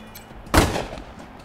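A single sharp gunshot from the game Wasteland 3, one abrupt loud crack with a short rumbling decay, standing alone against quiet background.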